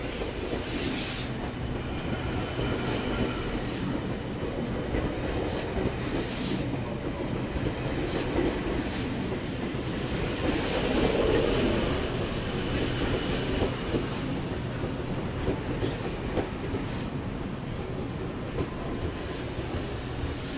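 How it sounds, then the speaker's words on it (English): A Sydney Trains City Circle service rumbles steadily past close by as it approaches a platform at Sydney's Central Station, with continuous rolling wheel noise and a couple of brief hissing bursts, loud and unbroken throughout. "We have a City Circle service approaching platform 17."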